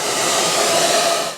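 A hair dryer blowing warm air at close range, a loud, steady whooshing drone that holds evenly before cutting off at the end.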